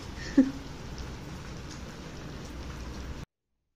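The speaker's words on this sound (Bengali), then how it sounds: "সকাল থেকে তুমুল বৃষ্টি" Heavy winter rain falling steadily with a soft, dense patter, a single louder knock early on, then abrupt silence.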